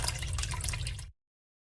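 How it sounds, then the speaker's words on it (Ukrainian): Water pours into a vessel in a horror video game, a steady splashing stream for about a second that stops abruptly, followed by silence. "Налить води."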